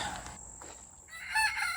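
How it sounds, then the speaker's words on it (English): A rooster crows once, a loud strained call near the end, following a moment of quieter outdoor background noise. "Roosters are gonna be extra roostery today."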